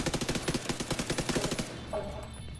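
Rapid automatic bursts from an MP5 submachine gun in The Division 2, loud and close, a steady rattling stream for about a second and a half before cutting off into a brief tail of game noise.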